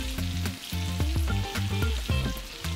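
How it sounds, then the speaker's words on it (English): Apple slices cooking in butter, sugar and cinnamon in a skillet over low heat, a close, lively sizzle with bursts of popping and crackling that rise and fall in quick uneven pulses, no voices. "Return the skillet to heat and cook over low heat for 10 minutes or until apples are tender crisp."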